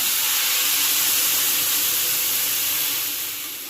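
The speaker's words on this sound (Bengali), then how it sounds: "এবার আমি বেশ কিছুটা জল অ্যাড করে দেব।" Water poured over drumstick stalks frying in a pan makes a loud, close, broadband hiss of steam and sizzle that holds steady and slowly softens at the end.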